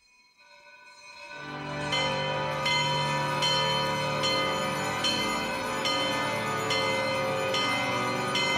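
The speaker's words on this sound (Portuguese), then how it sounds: "Agora tocam os sinos em festa." Church bells ring festively at St. Peter's Basilica during Christmas night Mass, swelling up from quiet into a loud, sustained peal with evenly spaced strikes ringing over a rich wash of resonant tones, with no talking.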